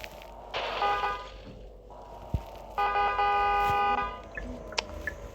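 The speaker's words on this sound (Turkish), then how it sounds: "Şimdi bastık kornaya." Two long electronic car horn blasts from a driving video game sound about two seconds apart, with a short beep and scattered clicks between and after.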